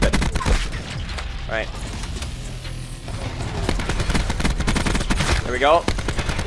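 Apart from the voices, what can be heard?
ICR assault rifle gunfire in video game Black Ops 4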